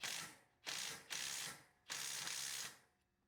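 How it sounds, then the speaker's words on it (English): A ratchet with a short socket tightening a coilover, sounding as three crisp, fast clicking bursts of varying length with short pauses between, close and clear. "Had to get a little bit of a shorter socket here, but I'll go ahead and tighten this up"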